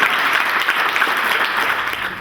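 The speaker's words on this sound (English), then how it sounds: "Just a round of applause for Gavin and Sean" A live audience breaks into steady, dense applause at a talk event, filling the whole stretch at an even, fairly loud level with no voices over it.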